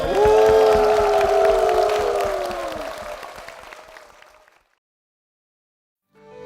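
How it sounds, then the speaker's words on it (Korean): Church congregation applauding in worship at a Korean church, a swell of clapping layered with sustained sung or organ-like tones that fades out over several seconds into silence. "주님께 영광의 박수를 드리겠습니다."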